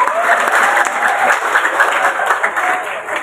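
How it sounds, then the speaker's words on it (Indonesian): Loud, dense applause fills a hall as an audience claps for the city of Kota Cirebon at a regional government and central bank event, sustained without pause. "Tepuk tangan kembali buat Kota Cirebon."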